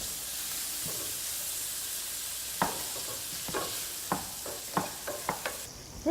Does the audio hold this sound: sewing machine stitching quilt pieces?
no